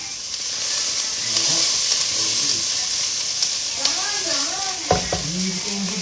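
Onions frying in a pan give a steady, close sizzle, with stirring scrapes and a few clatters. A voice talks over the sizzle partway through.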